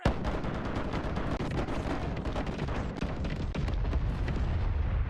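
Repeated heavy cannon blasts from ships in a pirate video game, booming close and loud in a dense, overlapping barrage with almost no pause between shots.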